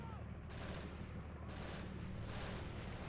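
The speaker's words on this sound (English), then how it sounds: "Mortars are still dropping down just to make sure that they kill any remaining forces" Mortar shells burst during a hill fort siege in the video game Men of War Assault, a faint, continuous rumble of distant explosions with several broad thuds rising and falling, no voices over it.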